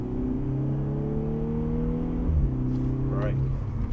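Car accelerating out of a corner on a race track, its engine note steady then dipping and rising again as power comes on, heard from inside under a driving instructor's talk.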